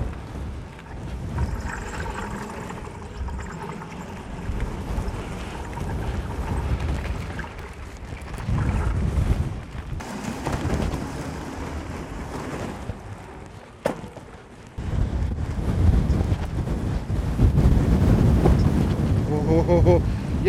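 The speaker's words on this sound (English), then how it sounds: "When the shelter goes, you hit with a full blast of gusting 40." Strong gusting wind of around 40 in exposed hill country near Fort William roars continuously across the microphone, building into louder blasts toward the end, with someone speaking now and then beneath it.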